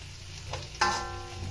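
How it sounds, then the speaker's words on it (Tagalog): Ginger, garlic and onions sauté in hot oil for chicken tinola, a soft steady sizzle that jumps into a louder crackling hiss as more goes into the pan. "nagigisa na po tayo ng ginger, saka garlic and onions"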